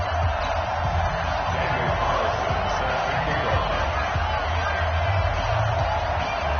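A dense stadium crowd roars and murmurs steadily in an NFL video game before a Week 14 Pittsburgh Steelers vs New York Jets matchup, forming a continuous wash of cheering at an even level throughout.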